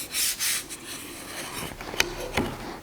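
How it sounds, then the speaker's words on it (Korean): Wood being smoothed with 240-grit sandpaper during a woodworking session making a wooden notebook: soft, close rubbing strokes in short bursts, with a few sharper scrapes near the end. "240방 사포로 조금 더 부드럽게"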